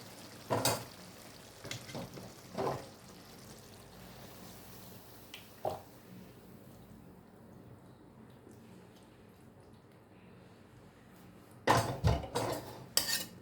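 Cooked chicken kosha scraped and poured from a pan into a dish, with sharp metal clinks and scrapes in brief bursts near the start and a louder clatter of pan and spoon toward the end, quiet in between.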